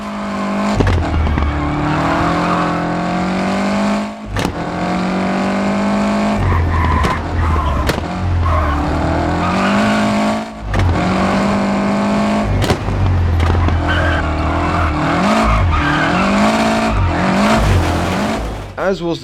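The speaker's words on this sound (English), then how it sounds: "Category number 5, Legendary Lancia Rally Cars." A Lancia rally car in the WRC 10 video game, its engine and exhaust revving loud and close. It rises through the gears with sharp shift cuts, backfire pops and tire skids across a fast run.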